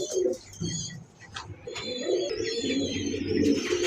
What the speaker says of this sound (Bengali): এক জোড়া বারহুমা কবুতর দেখাতেছি